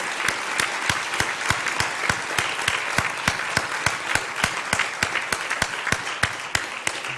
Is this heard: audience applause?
yes